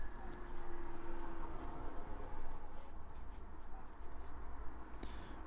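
Platinum Curidas fountain pen with a medium steel nib writing on paper, a close, soft continuous scratching of nib on the page with small strokes and pauses.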